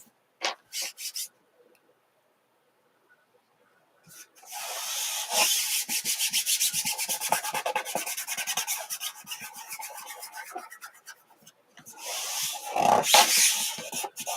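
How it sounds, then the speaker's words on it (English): A stencil is burnished onto a wooden clipboard: a few quick rubbing strokes, a pause, then a long stretch of close, scratchy back-and-forth rubbing, and a final short burst. "I'm just going to burnish it down on my clipboard"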